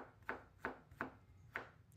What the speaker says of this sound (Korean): 오이는 가늘게 채를 썰고